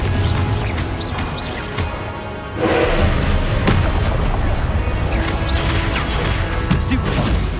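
The Confringo fire spell from the video game Hogwarts Legacy goes off in combat as loud, booming blasts and crashing thuds that merge into a dense, continuous roar of battle.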